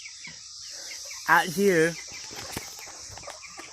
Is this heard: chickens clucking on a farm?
yes